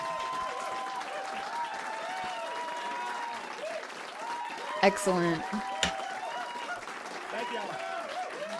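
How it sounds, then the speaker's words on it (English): Steady applause and cheering from a live audience at a community culture showcase, filling the whole stretch with a few louder whoops near the middle and a short spoken word over it. "Clear applause."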